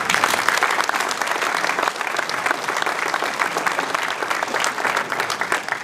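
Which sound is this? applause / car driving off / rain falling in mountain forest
applause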